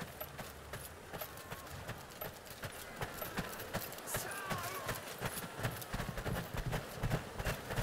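Steady horse hooves clip-clop at a trot in the video game Chivalry 2, through a noisy backdrop of clatter and ambient sound, continuous for several seconds.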